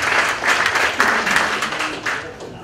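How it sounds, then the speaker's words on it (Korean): Warm applause from an audience at a Korean community gathering, many hands clapping in a full, even burst that holds steady and eases off slightly at the end. "모두 박수로 맞아주시기 바랍니다."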